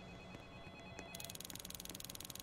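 A phone at a gas station rings in a Roblox horror game, starting partway through as a rapid, evenly pulsing electronic trill that follows quieter ambience and a few faint taps.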